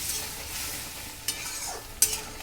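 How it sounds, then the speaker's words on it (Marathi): Quiet stirring of semolina in a pot of boiling water over a soft sizzling background, with two brief scraping clicks of a spoon against the metal. "आता रवा टाकून थोडंसं 5 मिनिटं त्यामध्ये हलवून घ्यायचे"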